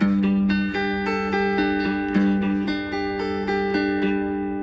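A picked guitar chord, individual strings plucked one after another in a steady, ringing pattern, played alone and close up.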